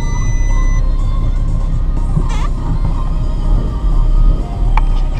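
A 2013 Audi A3 with a six-speed manual and no radiator fitted idles steadily, a loud continuous low rumble close by, with a brief high whine partway through.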